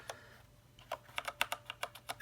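Keys on an iQunix A80 mechanical keyboard click in an irregular run of sharp, close taps, faint and alone at first and then quicker, with no talking.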